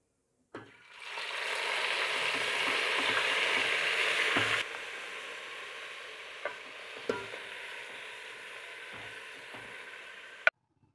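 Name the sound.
marinated mutton frying in pot for biryani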